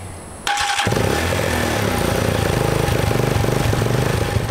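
A motorcycle engine starts abruptly and settles into a loud, steady, rumbling idle with a rapid chugging pulse, close by.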